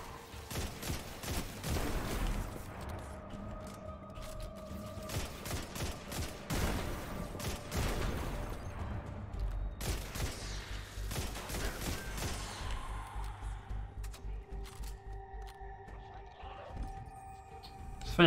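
Rifle fire in the Destiny 2 video game crackles in rapid, dense volleys that continue throughout, loud and close, with sharp repeated bangs and occasional mechanical clatter.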